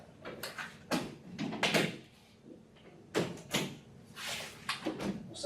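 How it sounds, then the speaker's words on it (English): Hard plastic and metal clunks and scrapes as latches are turned and the front doors are lifted off a desktop computer case, in several separate handling bursts, close by with no talking. "we'll turn these latches and take the doors off the front of the"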